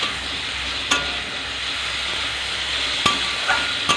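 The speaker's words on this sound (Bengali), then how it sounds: "এবারে নুন আর হলুদটা ভালোভাবে মিশিয়ে নেব ওই উচ্ছে আর আলুটার" Salt and turmeric being stirred into bitter gourd and potatoes in a pan, a soft steady hiss broken by a few sharp spoon clicks against the metal, quiet and with no talk.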